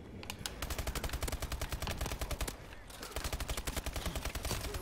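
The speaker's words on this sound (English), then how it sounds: "I won a gunfight I wasn't supposed to" Rapid video game gunfire during a close-range gunfight, dense bursts of automatic shots in fast rhythmic volleys with a short pause midway, loud and continuous without talk.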